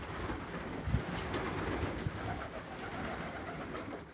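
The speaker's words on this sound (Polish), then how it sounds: "Są gołębie same sportowe." Sport pigeons coo softly inside a loft section housing males, a steady low murmur of calls with a few louder coos standing out, close by and with no voices.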